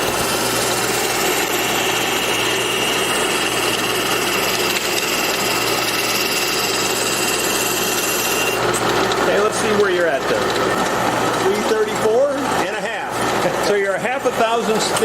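A thickness sander runs with a steady mechanical drone throughout, shifting in character midway, with indistinct voices talking over the motor toward the end.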